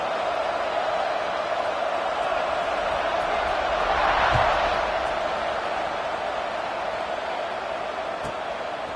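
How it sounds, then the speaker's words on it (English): A sports stadium crowd buzzes after a score ahead of a kickoff, a steady loud roar of many voices with a brief swell in the middle, continuous throughout. "this crowd is buzzing after that last score"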